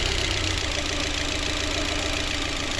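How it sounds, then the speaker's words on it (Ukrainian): A VAZ 2115 car engine running on LPG, its valve clearances unadjusted for three years or 60,000 km, idles with a rough, uneven knocking rumble, steady and continuous throughout. "Ось так працює наш мотор. Прям дуже йому тяжело."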